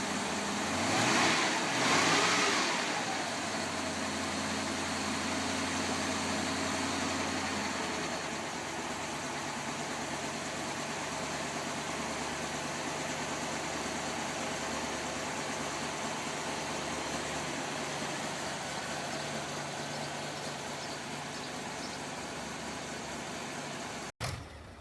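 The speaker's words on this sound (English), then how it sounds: "The Tatra T815 V10 diesel engine is a robust, air-cooled, turbocharged power unit developed for the Tatra T815 heavy-duty trucks." A Tatra T815 truck's air-cooled turbocharged V10 diesel runs at a steady, fairly quiet idle, a low continuous rumble lasting throughout, slightly busier at the start and cut off abruptly at the end.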